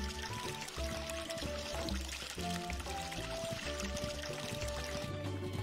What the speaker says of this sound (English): Just get these watered.